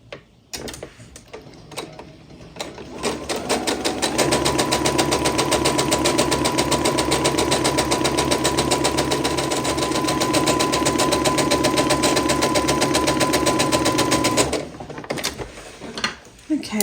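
A sewing machine stitches an eccentric star quilt block: a steady, fast mechanical whir and rapid ticking runs close up for about ten seconds, then stops, with a voice heard briefly before and after.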